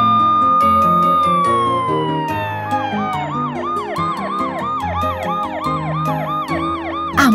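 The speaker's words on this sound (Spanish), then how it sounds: "ambulancia." An ambulance siren slides down from a steady tone into a fast, repeating yelp pattern, loud and close, layered over music.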